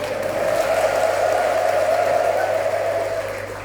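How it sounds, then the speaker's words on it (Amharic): A church congregation applauding and ululating together, a dense, sustained wash of clapping with a high trilling ululation on top, loud and steady for several seconds before easing slightly. "እልልታም ጭብጨባም ይደገም።"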